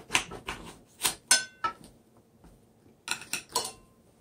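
Sharp knife strikes chopping the ends off an eggplant on a cutting board: a quick run of crisp clacks, a pause, then another tight cluster of three or four cuts, close and fairly loud.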